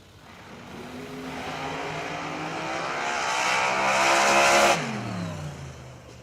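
A Diamond dragster race car launches at a drag race with a loud engine roar that climbs in pitch, peaks, then abruptly drops as the car passes and recedes.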